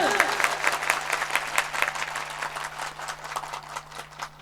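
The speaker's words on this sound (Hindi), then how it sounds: "आप इस कार्य के समर्थन में अपनी तालियों की गड़गड़ाहट से हमें समर्थन दें" Loud applause from a gathered audience at a religious discourse, dense rapid clapping with a steady hum underneath, building and sustaining close and vigorous.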